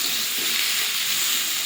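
Spice paste with ground coriander, chilli and turmeric frying in a pan with small mourola fish and potato: a loud, steady, close sizzle with a bright hiss that holds evenly throughout, with no talk.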